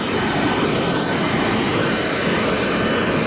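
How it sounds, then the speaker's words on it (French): An Air Guinée special flight aircraft arriving at Bissau, its engine producing a loud, steady broadband roar that holds level for several seconds with no talk over it. "un spécial de la compagnie nationale Air Guinée ramène à Bissau le chef de l'État de Guinée-Bissau, le président Nino"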